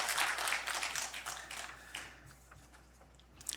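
A church congregation applauding during a Sunday service, a broad wash of clapping that is loud at first and gradually fades out, with a few sharper claps near the end.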